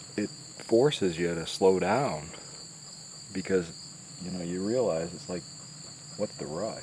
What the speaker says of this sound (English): just a little bit of noise of birds and insects